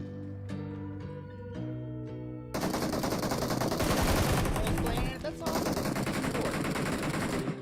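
Bursts of AK rifle fire from the mobile battle-royale game PUBG Mobile, loud and rapid, layered over game music and effects, with a denser stretch of sustained automatic fire in the second half.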